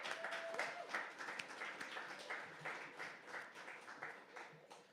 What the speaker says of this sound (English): So give the team a round of applause.